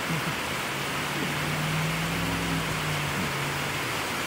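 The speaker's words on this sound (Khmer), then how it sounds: "ភ្លៀងមកក្រៅក្រៅស្ដាប់អត់ទៅលឺទេ" Heavy rain pours outside at a workplace as a dense, even hiss that stays loud and constant throughout, with a faint low hum underneath and no talk.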